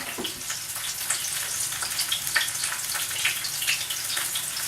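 Wonton strips frying in a pan of oil, a steady close crackle and sizzle with scattered sharp pops, alone without voices.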